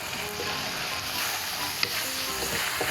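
Holy basil leaves are stir-fried in a hot pan with cooked pork, giving a loud, steady sizzle with occasional scraping and tapping from stirring, and no talking.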